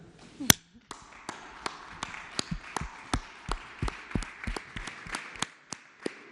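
Sparse, fairly quiet claps ring out in a steady sequence at a press conference, sharp individual hand strikes spaced evenly apart rather than a dense wash of applause.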